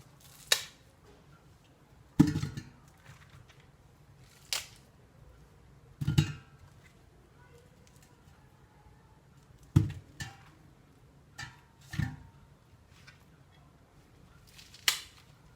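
Corn cobs are snapped in half by hand, about eight sharp, dry cracks spaced irregularly a second or two apart, close and distinct against a quiet background.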